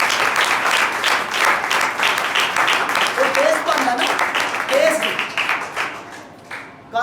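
Loud, sustained clapping from a church congregation at a New Year prayer service, with a voice speaking over the applause as it tapers off toward the end.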